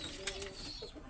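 Pigeons in a breeding loft give faint, soft cooing, with a couple of brief sharper notes over quiet background.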